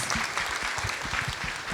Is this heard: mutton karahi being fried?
no